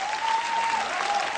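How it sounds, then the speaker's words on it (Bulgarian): Studio audience applause at the finale of a TV dance competition, a dense, loud burst of many hands clapping continuously over a faint steady musical tone. "Аплодисменти и за актрисата!"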